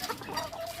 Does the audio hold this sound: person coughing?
no